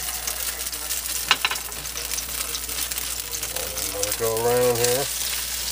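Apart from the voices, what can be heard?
beef stroganoff sizzling in oil in hot cast iron pan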